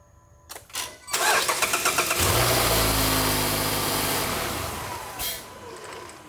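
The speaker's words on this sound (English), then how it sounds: "let's start the engine. So we'll go ahead and turn the engine on for about 40 seconds" A 2.5L Mazda CX-5 engine cranks briefly, catches and revs up, then settles into a steady idle that continues loudly to the end.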